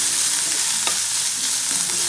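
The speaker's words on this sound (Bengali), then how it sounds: "রসুন আর আদা একটু ভেজে নিতে হবে। হালকা ব্রাউন করে ভেজে নিব একটু।" Garlic and ginger frying in a pan for an egg curry, a steady close sizzle with a brief stirring scrape partway through, alone without voices.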